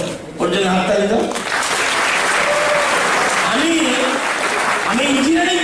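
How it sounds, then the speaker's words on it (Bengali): An audience gives a round of applause at an event, a loud, steady burst of clapping that starts abruptly and keeps going, with a speaker's voice cutting through it at intervals. "ওর জন্য হাততালি দাও।"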